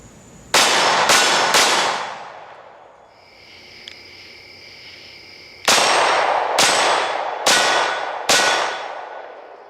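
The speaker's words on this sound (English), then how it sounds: "Next up are the day and night shots for a brief glimpse of recoil and muzzle flash" A 9mm pistol fires at a range during standard-pressure ammunition testing, six sharp, loud reports in two clusters, each leaving a short ringing decay, with a faint tone between the groups and no talking.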